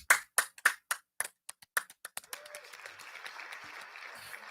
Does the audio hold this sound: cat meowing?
no